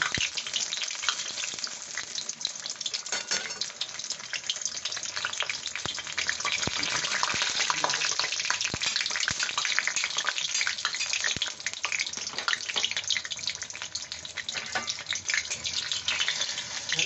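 Water lily stems frying in hot oil give a steady, dense crackling sizzle that runs unbroken from start to finish, with no talking.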